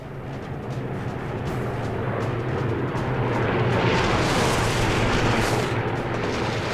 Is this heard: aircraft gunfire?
yes